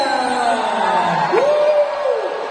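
Crowd cheering and whooping at an NBA fan day event in Macau after a stage performance, a broad steady roar with rising shouts, close and loud throughout.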